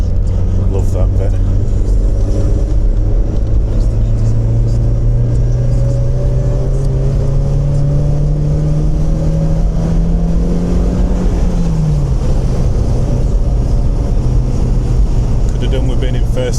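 A car engine labouring uphill in first gear on a moorland road to Reeth and Grinton, a steady loud drone whose pitch slowly climbs for about eleven seconds before dropping, with voices talking over it.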